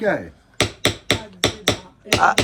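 A nail is hammered quickly, about seven sharp, evenly spaced metallic blows in close succession, loud and near, with no talking over them.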